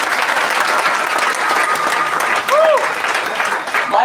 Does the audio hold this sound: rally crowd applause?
yes